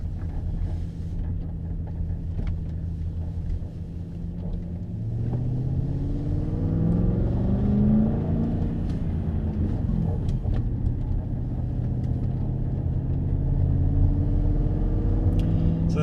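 Audi A6 C5 with a manual gearbox, swapped-in V8 engine and modified exhaust, driving with a steady low rumble from inside the cabin that swells into a deeper, louder pull about a third of the way in and holds.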